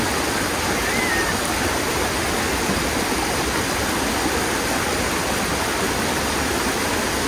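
Clear stream water runs steadily at a fruit-picking farm, a close, continuous rushing wash with no breaks and no voices.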